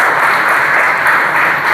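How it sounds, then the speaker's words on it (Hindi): Loud, sustained audience clapping fills a hall during a NEET coaching academy's results ceremony in Kota city. The dense, continuous applause holds steady throughout with no voices over it. "एक बार जोरदार लकी के लिए और अंकल जी के लिए ताली हो जाए।"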